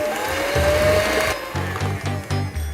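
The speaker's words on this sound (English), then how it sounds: "Mix the batter up" An electric hand mixer whirs through cookie batter for white chocolate chip cookies, steady and close, with its drone breaking into short rhythmic bursts partway through as the beaters work the dough.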